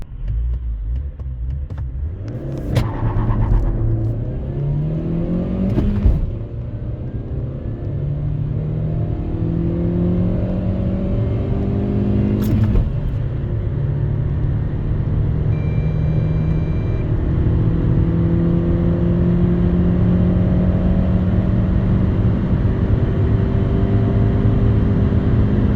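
An MG ZS with a 1.5 VTi-Tech engine accelerates hard from a standstill to 100 km/h. Loud, steady engine roar rises through gear changes with brief dips, holding a sustained drone near the microphone.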